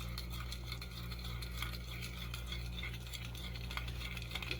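Soft, continuous scraping and light clinking of a utensil stirring a sour cream mixture in a bowl for beef stroganoff, quiet and close over a low steady hum, with no talking.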